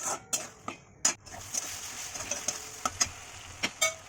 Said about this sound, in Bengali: এরপর আমি এটাকে হালকা কষিয়ে নেব।